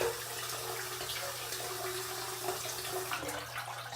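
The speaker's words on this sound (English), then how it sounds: "Swirl the warm water." Warm water swirls and sloshes in a sink while heating a razor, a steady wash of running liquid with a low hum underneath.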